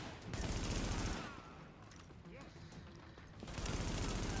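Rapid automatic gunfire in the shooter game Tom Clancy's The Division comes in two dense bursts, with a quieter stretch between them, and a voice talks over the shooting.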